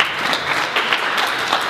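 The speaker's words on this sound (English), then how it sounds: "Let's give a round of applause to Jack." An audience applauds a contestant who is winning a Minecraft minecart game, producing a dense, steady burst of clapping that stays loud throughout.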